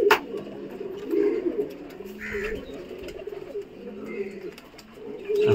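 Young pigeons at a home loft coo in a low, throaty chorus during morning flight training, the murmur rising and falling beneath a voice talking close by.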